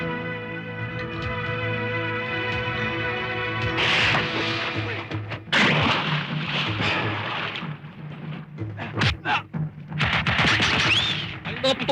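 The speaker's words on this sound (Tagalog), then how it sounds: "Ang mga putok na yan!" Bursts of gunfire in a classic Filipino action film scene, rapid cracking volleys that start after a tonal passage and recur in loud clusters, with voices mixed in.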